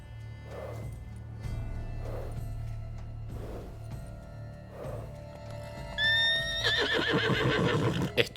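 Horse in The Witcher 3: Wild Hunt, Blood and Wine, whinnies loudly near the end, a shaky rising neigh over low steady game ambience with earlier soft hoof-like thumps.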